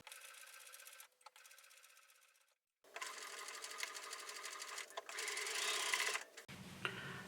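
Sewing machine stitching the ends of a folded plaid fabric waistband for a skirt, running in steady close bursts separated by short pauses, with no talk.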